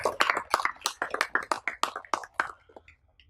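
A small group claps at a scout gathering, a dozen or so distinct, fairly close hand claps in a loose rhythm that slows and fades out after about two and a half seconds.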